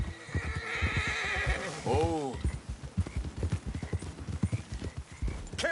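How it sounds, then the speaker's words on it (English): A horse whinnies loudly while hooves clip-clop at a walking pace in Red Dead Redemption 2, with a voice talking over parts of it. "Get a hold of that horse, Arthur."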